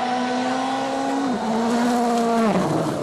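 WRC rally car running flat-out on a Rally Finland stage in 2011, engine roaring loud and close with steady high revs, a brief dip near the middle and a sharp gearshift drop toward the end, with no voices.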